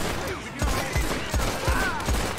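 A revolver in Red Dead Online firing rapidly, with about six evenly spaced heavy shots roughly a third of a second apart, loud and close over a dense game backdrop.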